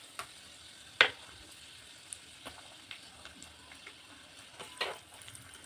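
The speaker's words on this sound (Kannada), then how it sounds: "ನೋಡಿ, ಎಷ್ಟು ಚೆನ್ನಾಗಿ ಫ್ರೈ ಆಗ್ತಾ ಇದೆ." Cashews fry in hot ghee in a pan, giving a faint, low sizzle with a few soft stirring clinks and taps against the pan.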